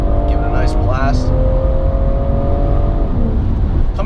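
A BMW 340i runs through a hard, sustained acceleration, its engine note rising in steady harmonic sweeps under loud, continuous wind and road roar.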